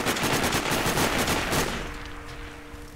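Gunfire in the video game Sniper Ghost Warrior: a rapid automatic burst of shots for about a second and a half, then a fading ringing tail.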